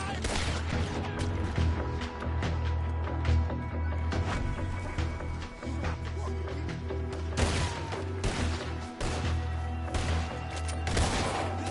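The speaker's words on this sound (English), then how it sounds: "He's going for the Gatling! Look out! He's firing!" A Gatling gun fires in Red Dead Redemption 2, steady rapid rattling bursts layered with scattered rifle shots and thuds, loud and close, while shouting voices break in over the gunfire.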